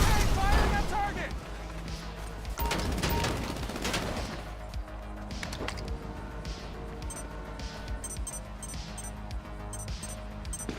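Rapid bursts of gunfire rattle in GTA Online, loud at first and then continuing as scattered shots and volleys, mixed with voices talking.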